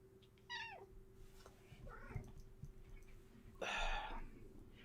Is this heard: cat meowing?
yes